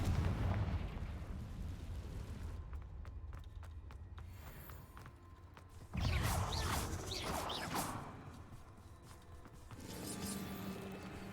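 Confringo fire-spell blasts go off in a cave in a video game: a heavy opening rumble, then sharp explosive bursts with crackling debris, the loudest boom about midway, followed by fainter rumbling.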